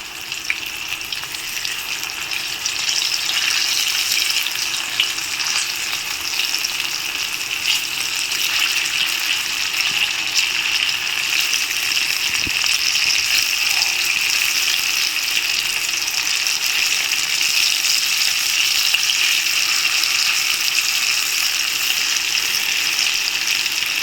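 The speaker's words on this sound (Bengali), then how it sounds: "তেল গরম হয়ে গেছে, এখন এক এক করে মোচার ডালনাগুলো আমি ভেজে নেব" Boiled banana-flower pieces frying in hot oil for mochar dalna, a loud, steady, continuous sizzle that holds evenly close up for the whole stretch with a faint clink midway.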